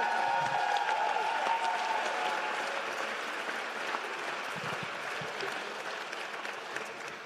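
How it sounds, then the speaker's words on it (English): An audience claps for several seconds in a hall, with a dense patter of hands that stays loud and then slowly tapers off. "a round of applause for everybody."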